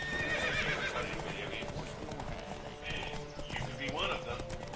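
In The Witcher, a horse's hooves clip-clop at a fast gallop while it neighs and whinnies loudly, with game sounds and some talk layered beneath.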